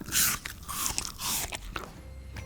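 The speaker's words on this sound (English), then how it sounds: "Let me give you ASMR of the crunch." A frozen sweet treat is bitten close to the microphone, giving several crisp, crackling crunches followed by quieter chewing, with no talking.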